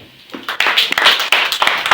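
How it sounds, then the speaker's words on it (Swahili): Church congregation clapping for Jesus during a service, a burst of quick, loud, uneven hand claps from a nearby crowd over a couple of seconds. "Hebu pigie Yesu makofi"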